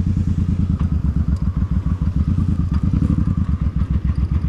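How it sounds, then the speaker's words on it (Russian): A Yamaha 1300 motorcycle rides past on a street in a Latino neighborhood of Dallas, Texas. Its loud, close engine throbs in a steady, rapid pulsing rhythm from start to finish. "О, мотоцикл. Ямаха 1300, по-моему, была."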